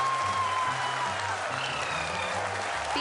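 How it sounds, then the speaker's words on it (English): A large crowd applauds steadily and densely throughout, marking India's Moon landing, with a faint tone and low murmur beneath the clapping. "People are applauding."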